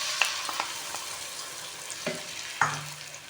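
Tomato paste goes into a pan of frying cumin over low heat, making a soft, steady sizzle. A few faint stirring clicks and scrapes sound nearby, and there is no talking.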